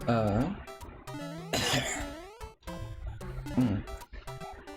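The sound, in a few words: throat clearing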